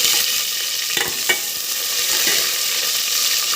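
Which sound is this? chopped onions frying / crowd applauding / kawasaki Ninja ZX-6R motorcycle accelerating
chopped onions frying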